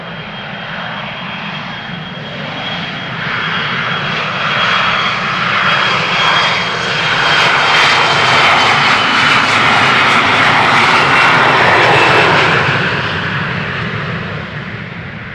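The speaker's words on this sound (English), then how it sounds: "KLM flight 1921 outbound to Gdansk, Embraer 175, 5 years old, first flight October" A KLM Embraer 175 regional jet departing runway 36L at Amsterdam Schiphol sends out a loud, broad engine roar that swells over several seconds, holds, and then begins to fade, with no voices.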